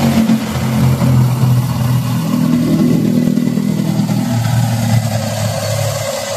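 A 2020 Maruti S-Presso VXI petrol car engine runs at a steady idle with the bonnet open, producing a close, even low hum with a light mechanical clatter and no talking.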